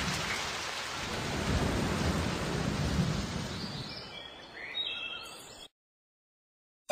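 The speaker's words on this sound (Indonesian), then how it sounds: "Badai sudah turun." A cartoon thunderstorm: heavy steady rain hisses over a deep rolling rumble of thunder. It swells and fades, then cuts to silence near the end.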